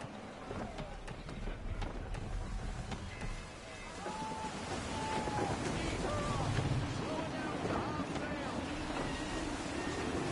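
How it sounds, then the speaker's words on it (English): Gusty wind rushes steadily around a sailing ship at sea in Assassin's Creed 3, with waves washing beneath and faint creaks over a constant mid-loud roar. "Gusty winds can be difficult to manage"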